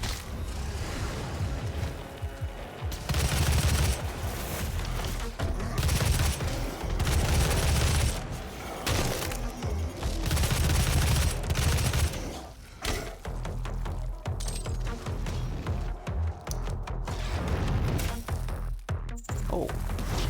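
Heavy weapon fire in the shooter DOOM, a long chaotic run of booming shots, crashes and thuds layered with mechanical noise and in-game clamour, loud and nearly continuous with a few brief dips.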